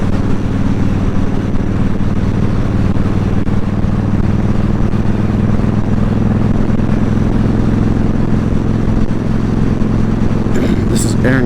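A motorcycle cruises a smooth, winding road called Aaron Cutoff. Its loud, continuous engine drone blends with rushing wind noise, steady throughout with no breaks.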